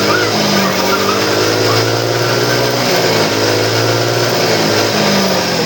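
A fully restored Choi Nori SS car engine revs steadily and loudly for several seconds, a continuous dense roar with shifting pitch while the battery is on fast charging.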